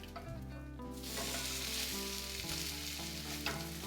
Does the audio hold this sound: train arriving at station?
no